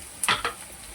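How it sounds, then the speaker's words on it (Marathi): Onion with salt frying in a pan for a Malvani prawn curry, giving a short burst of bright sizzling and stirring scrapes close by, then settling to a low steady hiss. "मस्त याला हलवून छान असा कांदा आता परतवून घ्यायचा आहे"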